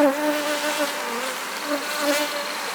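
Honey bees swarm around an open beehive during a colony inspection, a close, steady buzzing drone with wavering pitch and no talk.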